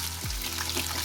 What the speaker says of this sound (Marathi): आता ते त्यात टाकायचे आणि त्यांना व्यवस्थित फ्राय करून घ्यायचं